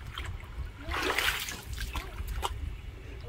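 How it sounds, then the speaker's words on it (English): Water sprays and splashes in a backyard kiddie pool, with a burst of splattering near the middle and smaller trickles and drips around it, fairly close. "Just shoot that water on them."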